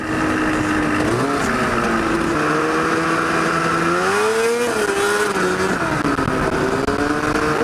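A go-kart fitted with a snowmobile engine being driven hard, its loud close engine droning steadily and rising and falling in pitch as it revs and eases off throughout.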